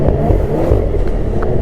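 A loud, smooth snowmobile 900R engine rumbling close by, steady with slight revving swells, over a brief stretch.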